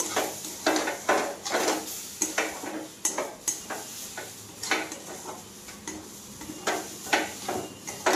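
A spoon scrapes rhythmically through spicy semolina halwa as milk is worked into it in a pan, close-up strokes repeating about once a second over a faint sizzle.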